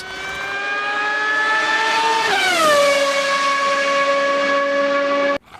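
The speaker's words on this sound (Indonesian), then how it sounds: "Widih, mobil balap super cepat. Keren sekali. Namanya mobil F1." A Formula 1 race car's high engine whine holds steady, then drops sharply in pitch midway as it sweeps past, fading down until an abrupt cutoff, with no voices.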